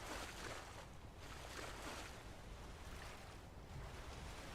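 A river current in the video game Skyrim flows as a soft, steady wash of water noise, faint and unbroken for the whole stretch.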